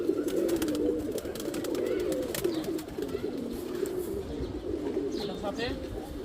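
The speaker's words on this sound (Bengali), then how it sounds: "খুবই ভালো কবুতর, খুবই ভালো কবুতর" Breeding pigeons in a loft coo over and over with low, throaty, warbling calls. They are close and moderately loud, with light rustles and a few higher chirps toward the end.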